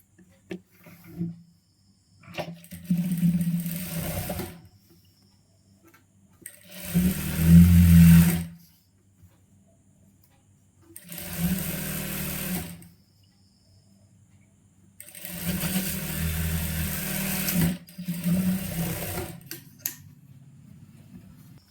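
A sewing machine stitches a folded side seam of a churidar in four or five separate runs of rapid mechanical chatter, each lasting a second or two, with quiet pauses between runs.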